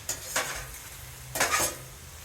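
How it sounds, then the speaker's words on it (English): Onions caramelizing in a pan for a vegan Philly cheesesteak, with two short bursts of stirring and scraping over a low, steady sizzle, close and fairly quiet. "And the onions are caramelizing even more as we go."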